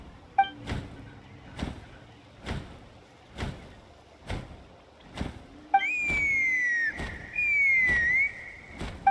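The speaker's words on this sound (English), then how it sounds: "That sounded like a whistle." Piercing whistle in Genshin Impact, two long sliding tones in the second half, heard over a regular series of soft rhythmic thumps that run through the whole scene.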